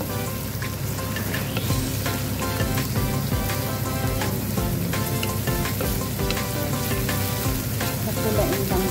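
Garlic and onion sautéing in olive oil in a pan while cooking cabbage with tuna and egg, a dense, continuous sizzle with crackling pops and occasional stirring clicks, close and steady throughout.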